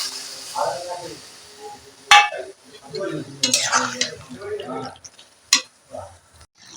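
Snails and potatoes tip into a pan of fried spices, giving a sharp metallic clatter, scattered knocks and soft sizzling over a few seconds, with someone speaking throughout.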